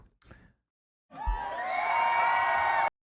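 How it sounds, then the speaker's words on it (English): Short burst of crowd cheering and applause used as a sound effect, rising abruptly after a brief quiet voice and holding loud and dense for under two seconds before cutting off sharply. "Let me get some applause in there for him."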